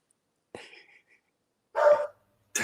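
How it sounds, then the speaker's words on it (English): Dog in a condominium giving a few sharp barks, one short bark early on, a louder fuller bark a second later and another starting at the end, close and alone with no talk over them. "Damn that fucking dog."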